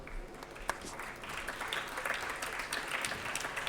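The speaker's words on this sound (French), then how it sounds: "Et on peut l'applaudir." An audience at an environmental business awards ceremony applauds, and the dense clapping holds steady and moderately loud throughout.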